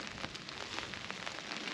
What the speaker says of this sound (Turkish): yağmur hızlandı.